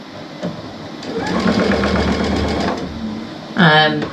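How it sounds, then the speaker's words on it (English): A sewing machine backstitches over a rubber band while making a hair towel, a steady motor hum lasting about two seconds with a shorter burst near the end, under a person talking. "now I'm gonna backstitch a little bit over that rubber band"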